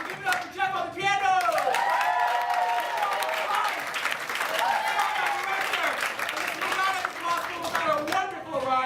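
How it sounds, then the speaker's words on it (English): An audience applauds and cheers for Jeff, the pianist, at a final show. Sustained clapping blends with music and voices for the full stretch. "Give it up for Jeff on the piano"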